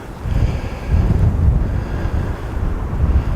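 Strong wind blusters over the Humber estuary on a cold, grey day, a loud continuous rumble buffeting the microphone with a faint wash of water beneath.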